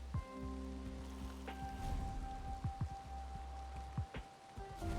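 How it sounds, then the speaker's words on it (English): Rain falling in a Minecraft RPG adventure map, a steady patter of raindrops with scattered louder drips and a sustained tonal drone beneath, moderately loud with no speech. "Next I needed out of the rain."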